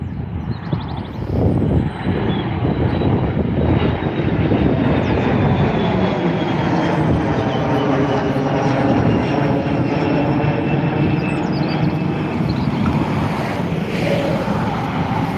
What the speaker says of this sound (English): So that was a Bombardier Challenger 650 taking off from the south runway.